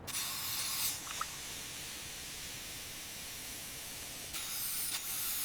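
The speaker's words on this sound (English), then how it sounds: "Spray hits the surface, foam builds up, rust starts dissolving" Spray hitting a rusty metal surface, a steady broad hiss lasting several seconds with slightly stronger bursts at the start and end, close and alone.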